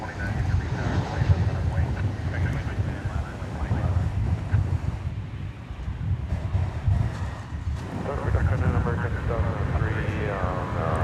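Aircraft on the flight to Portland at DFW Airport, a continuous broad roar of jet engines with gusty wind buffeting the microphone, steady and moderately loud with no voices.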